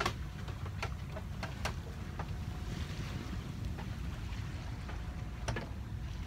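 A sailboat under way on open water in the wind: steady rushing wind and water wash with buffeting on the microphone and occasional creaks and knocks from the boat, no talking.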